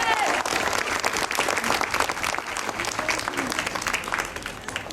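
A crowd roars and applauds as a knight enters the lists, giving a dense, continuous wash of clapping and cheering throughout.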